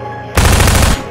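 A single rapid burst of gunfire, loud and close, lasting about half a second of fast automatic shots before stopping abruptly, with no voices.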